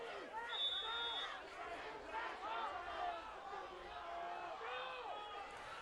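Crowd at a high school football game in Waterford, a steady murmur of many voices and distant shouts heard from a distance, with a commentator's voice talking over it.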